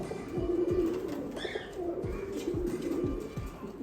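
Pigeons coo softly and repeatedly nearby, low rolling calls over a quiet background, with a brief higher chirp partway through.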